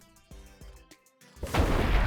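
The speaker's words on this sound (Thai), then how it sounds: "เราสามารถปาเพื่อระเบิดอย่างนี้ได้เลยนะครับผม" A thrown explosive item from the Mythic Mobs addon in Minecraft Bedrock goes off, preceded by a few short thuds, then a loud, broad burst of blast noise that fills the end of the clip.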